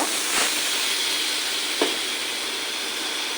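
Jackfruit, potato, onion and garlic frying in a pan, giving a steady broadband sizzle and hiss throughout, with a couple of brief louder stirring scrapes.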